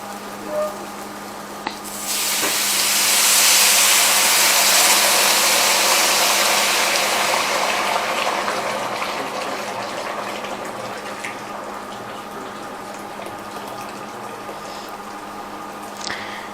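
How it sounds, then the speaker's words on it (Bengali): Hot water gushes into a pot of Pabna-style white khichuri with moong dal, a loud pouring rush that starts abruptly, holds for several seconds, then tapers into a softer simmering hiss. "এখন এতে আমরা দিয়ে দিচ্ছি হচ্ছে গরম পানি"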